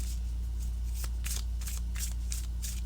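Tarot cards being shuffled in a series of quick riffling bursts, close up, over a steady low hum with no talking.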